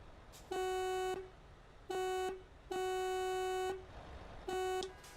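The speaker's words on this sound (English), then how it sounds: "can hear the horns already" Truck horns in the TruckersMP driving game on a gridlocked roundabout give four loud, steady tonal blasts of varying length, one short, one long, another long and a final short toot, with brief gaps between them.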